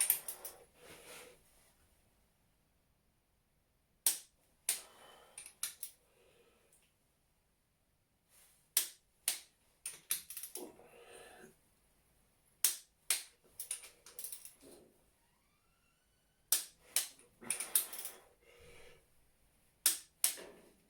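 A click-type torque wrench set to 100 tightening bolts on a Cosworth YB engine build, giving sharp isolated clicks in irregular bursts with quiet gaps and soft mechanical handling noise between.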